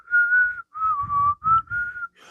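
A person whistles the melody of a song in a few clear, sustained phrases with short gaps, up close and with no other sound.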